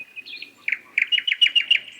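A small, slender brown songbird, a nightingale, sings a brief bright phrase: a few sliding notes, then a quick run of rapid, evenly spaced chirps, close and clear against near silence.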